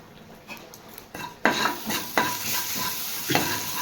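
Panch phoron with fenugreek and mustard seeds sizzling in hot oil, a bright crackling hiss punctuated by several sharp stirring scrapes and spoon knocks against the pan.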